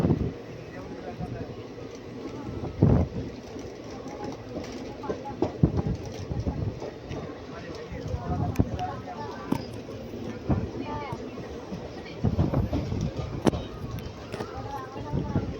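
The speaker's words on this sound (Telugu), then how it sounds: "చాలా చప్పగా వెళ్తుంది అనమాట ట్రైన్ అయితే" A slow-moving passenger train, the Kakinada Town–Mysuru 17289 inaugural special hauled by a G9 locomotive, rumbles continuously with low-frequency rolling noise and periodic louder clunks, heard from on board.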